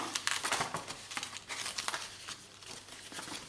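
Paper flaps of a handmade mini album fold and crinkle up close, a continuous rustling with small crackling peaks, heard alone with no talk.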